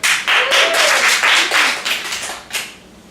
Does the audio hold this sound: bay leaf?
no